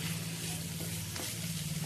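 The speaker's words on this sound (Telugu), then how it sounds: "ఎప్పుడు దలసరి గిన్నెలో వేపుకోవాలన్నమాట" Food frying in a thick-bottomed pan gives a steady, close sizzle with a constant low hum under it. No one speaks.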